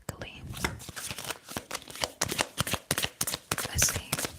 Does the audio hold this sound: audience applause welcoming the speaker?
no